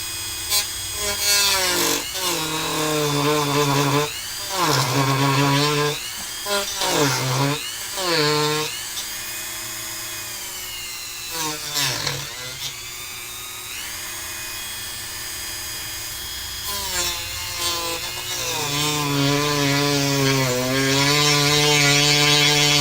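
A power cutter slices a window into a plastic computer case, whining loudly in repeated passes that rise and fall, with brief pauses between cuts.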